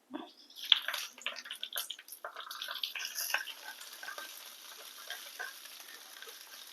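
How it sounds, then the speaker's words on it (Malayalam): A tempering of spices is poured into okra pachadi and sizzles at once. The crackle is bright and busy at first, then settles into a fainter, steady hiss. "താളിപ്പിട്ട് കൊടുക്കാം"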